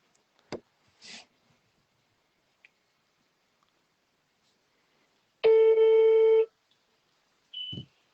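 A phone call goes unanswered: one long, loud electronic ringback tone sounds alone after a few soft clicks and taps, then a short tone follows near the end.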